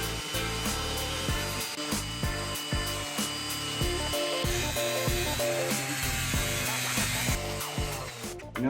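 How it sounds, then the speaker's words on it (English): Power grinder working over a sailboat's keel to remove damaged spots before epoxy filling, a steady loud abrasive whine with pitch shifts and repeated bursts as the tool is pressed and lifted, no voices. "Now we quickly grind away all the major issues on the keel."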